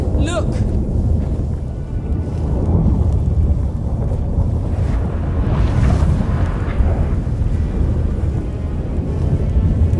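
A storm breaks in The Witcher 3 as heavy, continuous thunder rumbles low and loud, with rushing wind and roiling bursts throughout.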